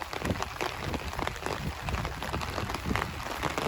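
Heavy rain from a tropical storm in Estero, Florida pours down in a dense, steady hiss with gusty surges of wind, loud and close, with no voices.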